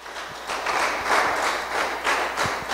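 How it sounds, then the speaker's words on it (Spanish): A congregation applauds during a church sermon, a soft, rolling wash of clapping that swells and fades at moderate distance, with a few sharper thumps. "Puede darle un aplauso al Señor"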